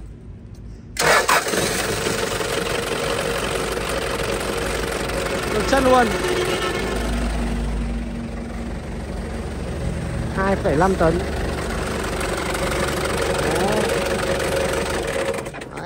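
A Japanese 2.5-ton forklift engine cranks and catches, then settles into a steady, close mid-pitched idle with a slight knocking rhythm, while someone talks over it.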